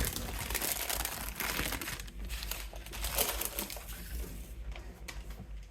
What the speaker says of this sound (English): I'm gonna try to get them off of the parchment paper.